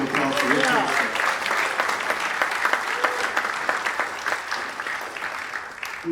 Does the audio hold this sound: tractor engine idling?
no